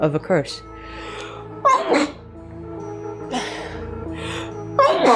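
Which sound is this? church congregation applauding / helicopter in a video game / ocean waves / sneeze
sneeze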